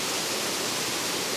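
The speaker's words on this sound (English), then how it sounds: "I'm actually up close and personal with the waterfall right now" Waterfall heard up close in an autumn landscape, a dense, steady broadband rush of falling water filling the whole moment without any voices.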